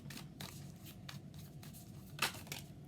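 Tarot cards being shuffled by hand, soft riffling and papery flicks in irregular bursts, close and quiet, with one sharper snap near the end.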